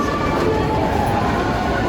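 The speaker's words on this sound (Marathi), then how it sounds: "इथं ट्रेन लागली ही, ह्याच्यामध्ये जायचं" A Mumbai local train rumbles steadily at a crowded Dadar station platform on Republic Day, its low mechanical roar mixed with crowd noise and faint voices in the background.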